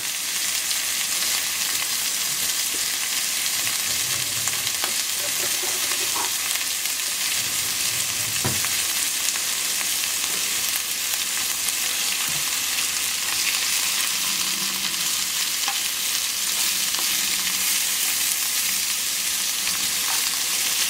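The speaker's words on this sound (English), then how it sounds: "We're going to let this cook thoroughly to a medium to high heat." Food fries in a pan over medium to high heat, a steady loud sizzle running the whole time with occasional soft stirring clicks and no talking.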